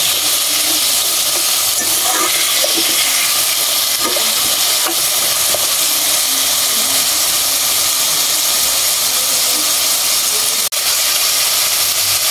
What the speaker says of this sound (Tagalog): Igigisa lang po natin sandali ito, itong ating kalabasa.